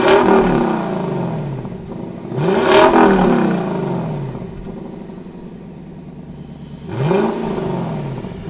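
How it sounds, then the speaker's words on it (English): A Lexus car engine runs loud and close, rising through several revs with sweeping pitch changes and settling back to a steady hum between them. "let's turn the key and listen to what the car sounds like"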